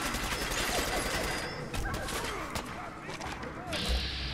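Dense gunfire in Fallout 4 rattles continuously in a loud barrage, with crashes and impacts mixed in and someone talking over the shooting.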